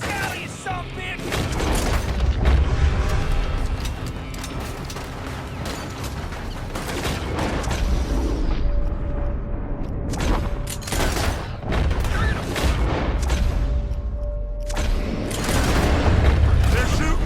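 Gunfire crackles through a Red Dead Redemption 2 shootout, with dense bursts of shots and booms sounding from a building, continuous and loud throughout with game noise underneath.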